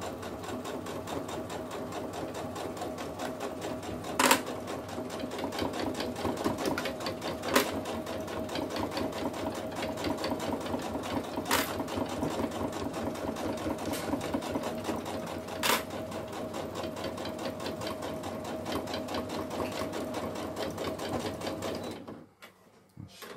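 A sewing machine stitches a fabric wallet in one long steady run, its close, even mechanical whir with a few sharp clicks along the way, stopping near the end.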